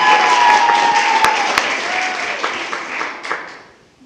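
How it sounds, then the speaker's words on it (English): People at a school board meeting applaud employees of the month, a brief burst of clapping that is strongest at first and tapers off to near silence within about four seconds. "And one more round of applause for all of our February Employees of the Month."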